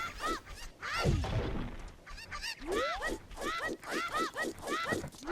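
Cuckoo chickens in the Zelda Ocarina of Time video game squawk and cluck in quick, repeated honking bursts that overlap one another, with a rougher flap-like burst early on.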